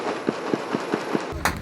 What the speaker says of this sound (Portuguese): O tiro tá em cima da gente aqui